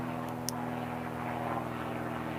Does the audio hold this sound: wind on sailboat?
no